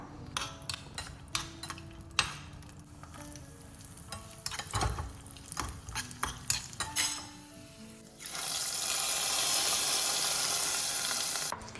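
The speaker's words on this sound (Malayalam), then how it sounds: "അണ്ടിയും മുന്തിരിയും ഇട്ടിട്ട് നമുക്കൊന്ന് വറവിട്ടെടുക്കാം" Cashews and raisins fry in ghee, preceded by sharp clinks and taps of utensils against a pan, then a loud steady sizzle that swells and holds through the last few seconds.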